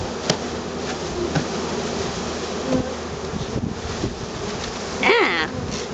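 Honeybees buzzing close to the microphone while being put into a new hive, a steady insect drone with a brief louder swell of buzzing near the end and light wind noise.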